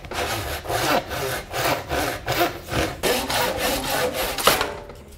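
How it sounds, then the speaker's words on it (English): A hand saw cutting through 4-inch PVC pipe, with about ten steady, rhythmic back-and-forth rasping strokes heard close up and alone. "we're going to cut off a piece of this PVC pipe"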